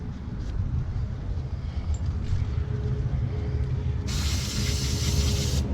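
Brake parts cleaner hisses from an aerosol can in one steady burst of close spray onto rear brake caliper pins of a Buick LaCrosse, coming near the end over a constant low background rumble.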